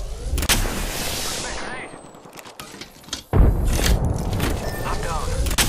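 Apex Legends gunfire: several sharp, loud shots and bursts, with a short lull midway before the shooting resumes, under a speaking voice.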